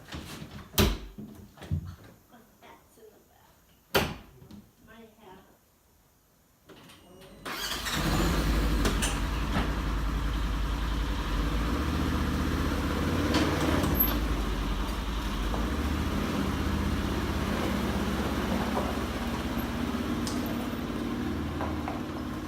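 Clunks and shuffling come first, then a Polaris 900 XP utility vehicle's engine starts at about seven seconds and drives on with a steady, close, rumbling drone.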